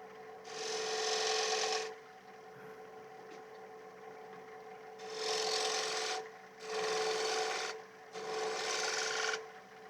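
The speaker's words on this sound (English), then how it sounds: "a spindle gouge, the Henry Taylor one again. It's one of my favourite tools. Just shear scraping" A Henry Taylor spindle gouge shear-scrapes a curve inside a turned wooden bowl on a running lathe, giving a sustained raspy hiss in four long passes with short pauses between, close and steady over a quiet motor hum.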